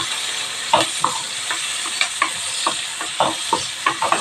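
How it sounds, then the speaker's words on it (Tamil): Finely chopped onions sautéing in a pan for a kovakkai (ivy gourd) gravy, a steady close sizzle broken by regular scraping stirs of a spoon against the pan. "அது இப்போ வெங்காயம் போட்டு நல்லா வதங்கட்டும்."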